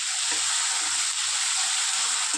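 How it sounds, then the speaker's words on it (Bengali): Ginger-garlic paste fries in hot oil with fried onion and tomato as the masala base for an ayla fish curry: a steady, close, even sizzle and hiss with faint stirring underneath and no pauses. "আদা রসুন দিয়ে একটুখানি আমি কষিয়ে নেবো"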